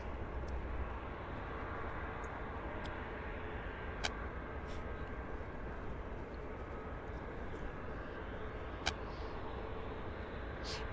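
An Aeromexico airliner passing at Vancouver Airport, a steady broad distant jet roar sustained throughout with a couple of faint clicks, no talk.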